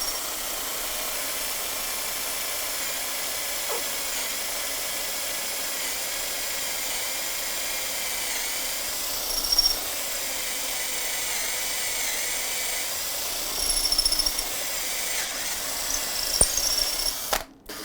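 A power drill whirs steadily for a long stretch, drilling holes through a wooden stick held vertical in a jig, with a constant high mechanical whine and occasional brief knocks and bumps near the end.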